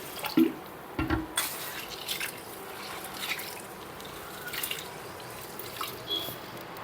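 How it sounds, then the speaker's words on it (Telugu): Urad dal and fenugreek seeds are rinsed in water, with soft, quiet sloshing and small drips and splashes spread through the clip at a close distance. "ఇప్పుడు వీటిల్లోకి వాటర్ వేసుకొని మంచిగా క్లీన్ చేసుకోవాలి"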